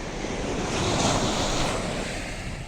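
Sea waves wash steadily onto a beach, a continuous rushing surf with wind noise buffeting the microphone, close and loud throughout.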